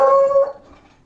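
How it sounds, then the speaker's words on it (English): A dog barks during a Minecraft game session, heard as a single loud, tonal bark with a howl-like ring that trails off within about half a second. "Someone's dog is barking."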